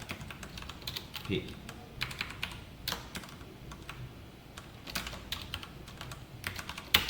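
Someone types C code on a computer keyboard in quick, irregular bursts of soft clicks and clacks, close and fairly quiet, with brief pauses between runs of keystrokes.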